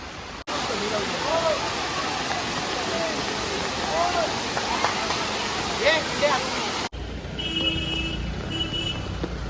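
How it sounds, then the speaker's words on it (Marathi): Steady broadband hiss of heavy rain pouring down at Gagangiri Maharaj Math in Khopoli, close and continuous, with a few faint chirps on top; it cuts off abruptly near the end to a quieter scene. "पाऊस पडतोय आणि पाऊस पडतोय"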